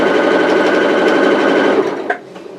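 A sewing machine stitches roman blind fabric in a fast, steady whirring run that stops abruptly near the end, leaving a few faint clicks of handling.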